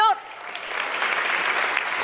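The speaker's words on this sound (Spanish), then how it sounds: "Puedes darle un aplauso al Señor." A church congregation applauding during a Good Friday sermon, a sustained, moderately loud clapping that rises just after a voice cuts off at the start and continues evenly to the end.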